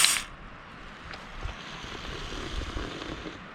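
A beer is opened outdoors on a cold day, with one sharp, hissing pop right at the start. A steady low rush of wind and background noise follows.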